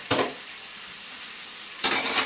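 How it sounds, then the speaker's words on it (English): Shallots sizzle steadily in a preheated pan as they saute, a constant close frying hiss with a clatter of stirring at the start and again near the end. "So again, there's a nice sizzle,"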